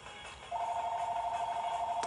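A telephone starts ringing partway through, a steady electronic tone that holds on continuously and fairly loud over faint background noise.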